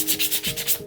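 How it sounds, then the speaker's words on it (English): Fine sandpaper rubbed over a tiny handmade book, a close, steady back-and-forth scratching in about six quick even strokes with no talk. "So I'm just going to do a very little bit of fine sanding."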